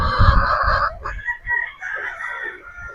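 Gamefowl roosters at a game farm crow loudly nearby, one long full crow followed by shorter overlapping crows and clucks from other birds.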